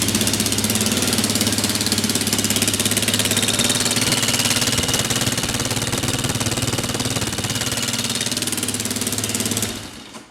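A damaged, partly rebuilt Yamaha Raptor 660R ATV engine with a leaking exhaust runs loudly and roughly at close range, a constant rattling, knocking idle that carries on steadily before abruptly cutting off at the end.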